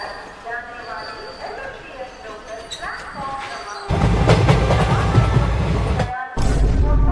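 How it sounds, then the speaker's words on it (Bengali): In a cartoon, a train arrives as a loud, heavy rumble that rises suddenly after voices and keeps roaring with only a short break. Talk comes before the rumble. "ওই তো মনে হয় ট্রেনটা আসছে।"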